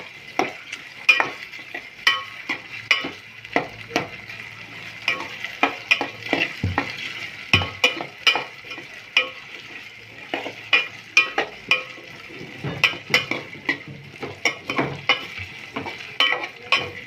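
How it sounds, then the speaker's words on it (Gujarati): Potatoes frying slowly in oil over a low gas flame for a potato-and-aubergine dish, with a steady soft sizzle and repeated scraping clicks of a spoon stirring the pan, close and alone. "બટાટાને ઘડીક ધીમા ગેસે આમને બફાવા દઈશું તેલમાં. આમને ધીમે હલાવતા રહીશું."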